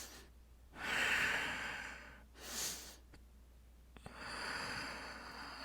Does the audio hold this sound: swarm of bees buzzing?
no